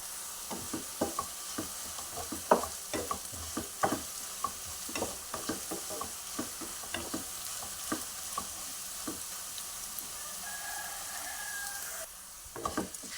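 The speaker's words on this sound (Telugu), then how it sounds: "ఇట్లా మంచిగా వెర్రగా వేగినాయి కదండి కాకరకాయ ముక్కలు" Bitter gourd pieces frying in oil while being stirred, the spatula clicking and scraping against the pan in an irregular rhythm over a steady sizzle, with no talk.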